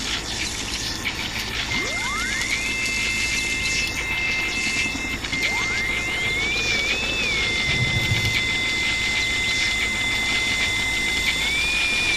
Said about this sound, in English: Your helicopter's arrived, but it can't get close until you destroy that machine.